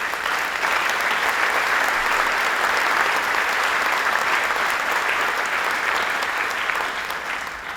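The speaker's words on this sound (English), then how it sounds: "And that's something worth clapping for." Sustained audience applause at a governor's announcement of a new SolarCity GigaFactory complex at RiverBend: a large crowd clapping loudly and evenly for several seconds, with faint cheers mixed in.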